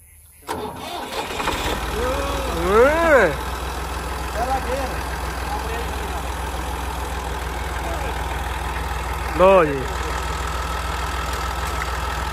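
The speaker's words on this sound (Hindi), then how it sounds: "ट्रैक्टर चला बैठा है" A tractor engine cranks and catches, then settles into a steady low idle with a couple of brief squealing rises, while someone speaks briefly over it in a village setting.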